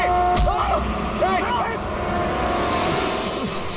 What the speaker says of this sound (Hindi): मदन, गाड़ी!